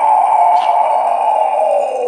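A band's own music: a steady, sustained electronic-sounding tone with a strong low-mid drone and bright overtones, playing continuously at an even level without any singing or talk.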